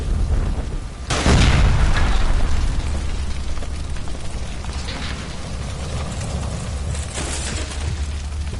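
Gas line explosion in LA Noire, a sudden loud blast after a second of tense ambience, followed by a rumbling roar and scattered crackling debris that gradually settle.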